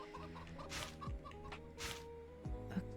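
Three laying hens on a farm cluck close by in short, repeated bursts, with low murmuring calls between them.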